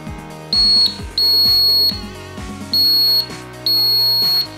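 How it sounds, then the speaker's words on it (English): Active buzzer on a relay-based tripwire alarm being tested, sounding four loud, piercing high-pitched beeps of about a second each with short gaps between them. "First, let's check the buzzer."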